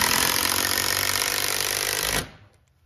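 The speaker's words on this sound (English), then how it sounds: "I have these longer screws, and I'm gonna take those and run them in through the hinges" A power drill drives long screws through door hinges on a custom home build, a loud steady whir that runs for about two seconds and then cuts off abruptly.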